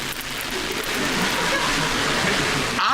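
Rain drums steadily on tin roofing, a dense, even hiss that swells slightly toward the end.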